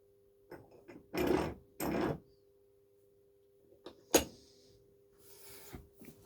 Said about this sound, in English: So I'm gonna clamp it in as low as possible.